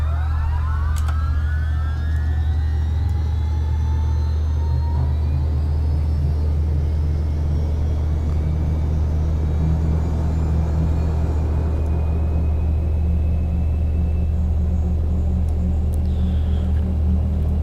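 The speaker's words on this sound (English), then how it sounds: "we see that the engine is spinning up here" An aircraft engine in X-Plane 11 spins up, a loud continuous low rumble and drone with rising whining tones sweeping upward over the first seconds, steady and close the whole time.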